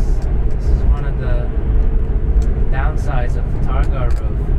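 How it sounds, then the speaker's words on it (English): Steady wind rush from the removable roof panel of a Porsche 964 Carrera 2 Targa with a manual gearbox, heard at speed as a constant broadband roar inside the cabin, with someone talking over it. "I'm not sure if you can hear that, the wind noise"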